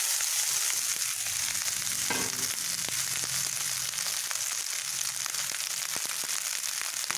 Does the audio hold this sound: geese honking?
no